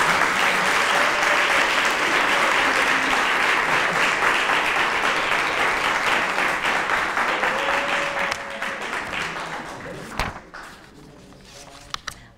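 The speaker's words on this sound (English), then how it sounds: "I'd just like to take time again to applaud all the students" Sustained audience applause for a student speech at an oratorical program, dense and loud clapping that thins out toward the end with a few scattered final claps.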